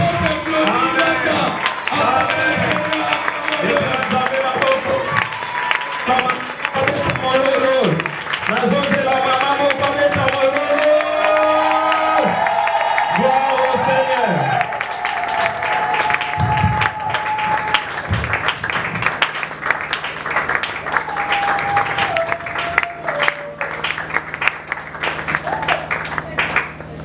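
A church congregation cheers and applauds during worship, clapping and shouting mixed with voices and music, the crowd noise continuing throughout.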